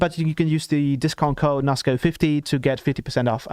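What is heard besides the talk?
No everyday noise stands out behind the speech.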